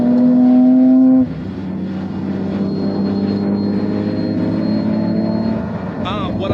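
A Pagani Huayra Codalunga in Race mode drones along with a steady engine tone that shifts gear early on, then holds a lower, sustained hum from inside the car.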